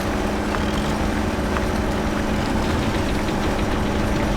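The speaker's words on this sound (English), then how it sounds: "you can just accelerate to start the engine" A heavy truck engine in the MudRunner off-road driving game rumbles at a steady idle, a loud, continuous low drone with a faint rhythmic knock running through it.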